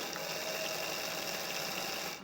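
Sewing machine stitching a half circle dress lining to its side seam, a steady close mechanical whir running continuously before stopping abruptly.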